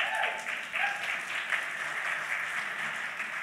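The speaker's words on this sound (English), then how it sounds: "yes, you should applaud Deanna, her work in the city" An audience at an opening-night literary festival panel applauds steadily, a dense wash of clapping that stays loud and even for the whole stretch with no talk over it.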